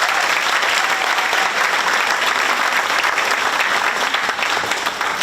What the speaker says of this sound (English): How about a round of applause for Cyclone?